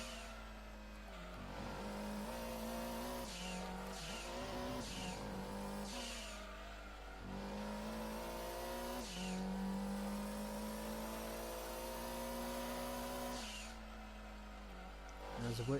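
Race car engines in Gran Turismo 2 at Apricot Hill during a GT500 Championship lap, a loud sustained engine drone rising and falling through gear changes, with someone talking over it.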